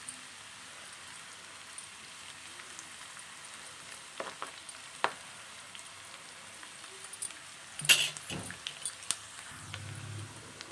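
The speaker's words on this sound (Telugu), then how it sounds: "ఆనియన్ అయితే ఫ్రై అయ్యింది." Onions and curry leaves fry in a pan with a faint, soft sizzle, broken by a few light clinks and one louder scrape or stir near the end; quiet and close, with no talking.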